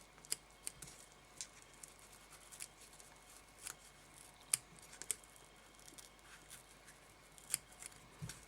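Scissors snipping fly-tying fibres at the tail of a Black Bomber Canadian salmon fly: faint, close, irregular small clicks and snips over a quiet hiss, with no talking.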